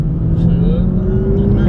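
A BMW M2 engine drones loudly at about 40% throttle, a steady low rumble with a slowly rising pitch, heard from inside the car.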